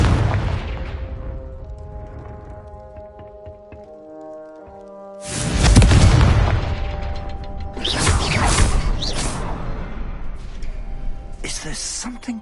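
A Confringo fire spell cast in a Hogwarts video game erupts in one loud, booming blast with a whooshing burst, followed by more crackling impacts over steady game music.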